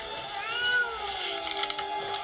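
A cat in the 1989 horror film Pet Sematary gives a drawn-out, wavering meow with a rising and falling pitch, followed by a few shorter sharp cries, close and clear with no talking.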